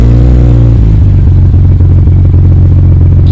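Jeep Cherokee XJ engine with a newly installed fuel pump cranks briefly and catches, settling into a loud, steady low idle rumble close by, with no talk.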